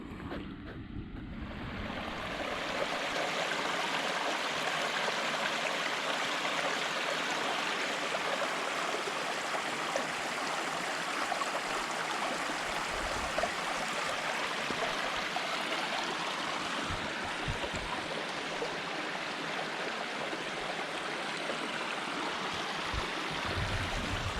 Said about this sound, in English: I do love these little mountain streams